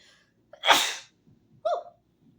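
A single loud, close sneeze with a sharp breathy burst, followed by a brief vocal sound afterward.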